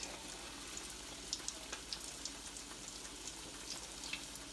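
Salmon patties fry in a pan of grease with a soft, steady crackle and scattered small pops, fairly quiet and with no talking.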